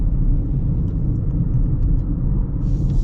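A 2026 Chevy Equinox AWD four-cylinder crossover heard from inside while driving, a loud steady low engine and road rumble with no talking.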